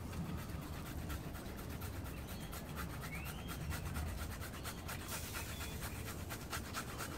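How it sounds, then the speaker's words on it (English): Fresh ginger being grated with its skin on for grilled charcoal fish, a steady continuous rasping scrape that runs unbroken for several seconds, close and moderately loud, with no voices. "I'm just gonna grind it with the skin because it's just put a flavor in"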